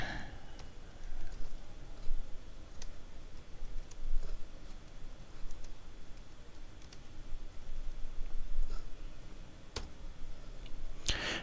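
Keyboard keys clicking steadily as a command is typed at a computer during single-node Hadoop setup, a dense run of soft taps under a faint background hiss with a few sharper clicks.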